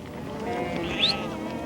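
Non-native sheep and goats grazing in the Andes, with one drawn-out bleat rising clearly above a soft, steady outdoor background.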